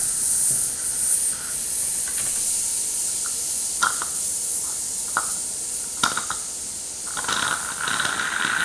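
Steady close-up hiss from the pressure valve of an espresso pot (Essopot moka-style brewer) on a stove, with small scattered clicks and ticks running through it.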